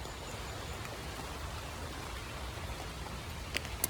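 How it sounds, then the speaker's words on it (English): Rain falls steadily through trees along a quiet walking path, a soft even hiss of drops with a few closer patters toward the end. "The trees, it's raining, it's beautiful."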